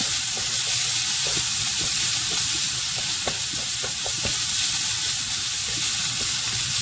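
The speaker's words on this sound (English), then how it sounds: "The spice paste is nicely caramelizing as it should." Spice paste for beef rendang fries and caramelizes in a pan, giving a steady close sizzle with faint scraping stirs throughout and no talking.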